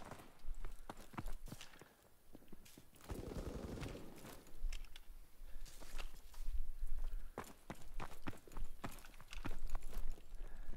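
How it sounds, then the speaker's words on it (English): Footsteps of players stomping around in Call of Duty WWII, a run of sharp, uneven thuds at close range mixed with scattered distant gunfire and game noise. "Hear people stomping around."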